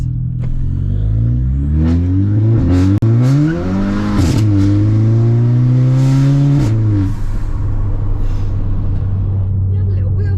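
A Volkswagen Scirocco engine, loud and close, revs and accelerates through rising pitch sweeps with a brief drop between gears, then settles into a steady drone while a person talks over it.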